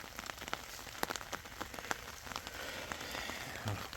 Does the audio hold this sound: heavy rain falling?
yes